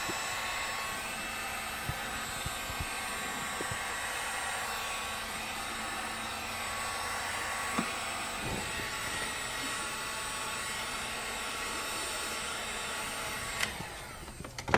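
A heater blows steadily on black sealant along a Harley tour pak LED lens, a constant loud whooshing drone with a few faint clicks and knocks and a brief shift near the end.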